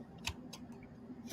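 Good scissors snip through craft material in a few quick, crisp cuts, close and faint over a low room hum.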